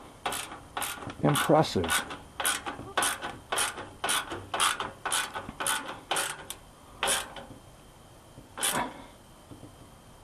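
A socket ratchet turns in a quick series of close, rhythmic clicking pulls that slow and space out toward the end. A voice speaks briefly over it.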